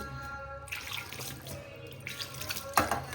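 Water splashing and trickling as a small amount is poured into rice flour in a bowl, with a brief louder splash near the end; no talking.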